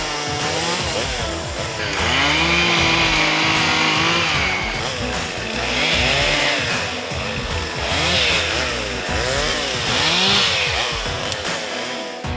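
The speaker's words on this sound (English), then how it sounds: "grab some chainsaws and start cutting" Chainsaws cut trees to clear ground for a food plot on hunting property, loud and close, with engines revving and bogging in repeated rising and falling surges through the cuts.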